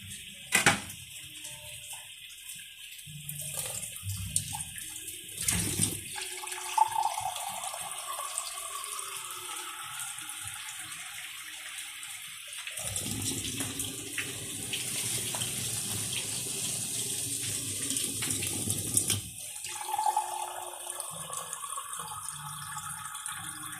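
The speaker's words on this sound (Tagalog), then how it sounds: "lagyan na natin mga kaguro ng tubig para sa sabaw" Water running from a tap into a cooking pot for soup, a steady rushing stream with a few knocks at the start, then a fuller, deeper pour that fades away near the end, close and clear with no talking.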